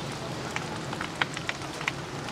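Rain falls steadily outdoors during a thunderstorm in Vietnam, a constant soft hiss broken by scattered sharp drop ticks landing nearby, with no one speaking.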